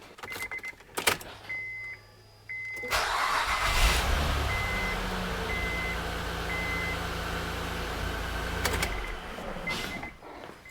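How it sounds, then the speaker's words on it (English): A 2005-2008 Honda Pilot, just fitted with a new valve cover gasket, cranks over with a short chime, then its engine catches and settles into a steady, smooth idle close by. Another brief cranking burst comes near the end. No voices. "Let's go ahead and start it up."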